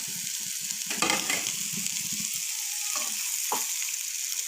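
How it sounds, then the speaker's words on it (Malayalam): Eggplant slices fry in coconut oil in a pan, a continuous close sizzle broken by a few scraping stirs of a spatula, no talking. "അങ്ങോട്ടും ഇങ്ങോട്ടും ഒന്ന് ഇളക്കിയൊക്കെ കൊടുക്കാം ആവശ്യമുണ്ടെങ്കിൽ കുറച്ചും കൂടി വെളിച്ചെണ്ണ കൊഴിച്ചു കൊടുക്കാം"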